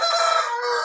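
Rooster crowing loudly and close, a single sustained call heard alone.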